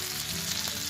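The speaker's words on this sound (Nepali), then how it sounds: "लास्टमा हामी क्याप्सिकमलाई राख्छौँ।" Capsicum tossed into a hot pan of buff keema noodles, giving a steady, close sizzling hiss of frying with no pauses and no talk.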